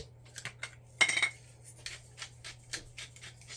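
A spoon stirs tomatoes, lemon juice, salt and pepper in a bowl, making a quick run of light clinks and scrapes with one sharper knock near the start, close and quiet.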